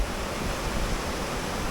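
Steady broadband wash of sea waves and surf seen from a viewpoint during a trip in Hapid, Ifugao, continuous and fairly loud with some wind rumble, no voices.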